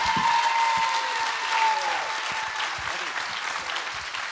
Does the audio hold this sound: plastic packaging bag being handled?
no